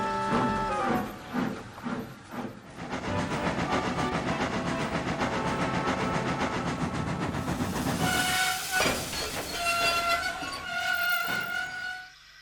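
A model steam train in an OO/HO-scale Thomas & Friends layout chuffs and hisses as it pulls away, a loud continuous rumble with a high whistle-like tone rising near the end.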